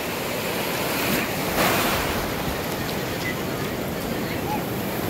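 Water waves wash in with a continuous loud surf roar and wind noise, steady throughout with a slight swell near the middle.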